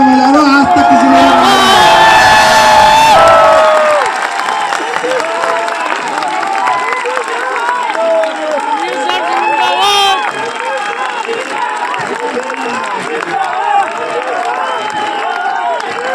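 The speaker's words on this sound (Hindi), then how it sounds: "खड़े हो गए, तालियां बजा लो" A large indoor audience at a corporate wellness event bursts into loud, sustained applause mixed with cheering and whoops, then settles into steady clapping that continues to the end, with a loud voice over the crowd early on.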